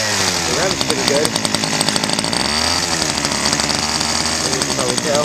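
Homelite Bandit SX-135 25cc two-stroke engine running close and loud, a buzzing rattle that swells and dips as the throttle is revved, with someone talking over it.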